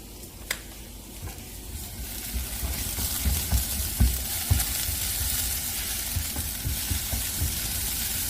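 Garlic and green onion frying in oil in a pan: a loud, continuous close sizzle filling the whole stretch, with a few soft clinks of utensil against pan and no speech.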